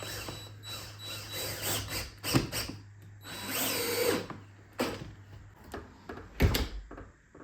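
A power drill driving a long screw into a door's deadbolt strike plate, several whining bursts of varying length with pauses between, close and clear, along with a few clicks and knocks of handling.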